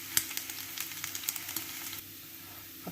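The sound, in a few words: pork fat (salo) rendering and sizzling in a pan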